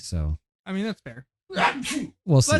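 A person sneezes close by amid conversation, a sharp breathy burst following short stretches of speech, with voices talking before and after.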